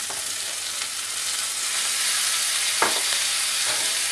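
Onions, tomatoes and garlic sautéing in a paella pot give a loud, even sizzle, with a couple of brief scraping stirs near the end and no talking.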